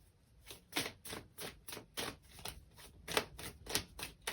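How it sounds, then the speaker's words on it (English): Tarot cards being shuffled by hand in a quiet room, a steady run of crisp riffling bursts about twice a second, close and fairly soft, with no talking. "If I'm going quiet, it's just because I'm shuffling."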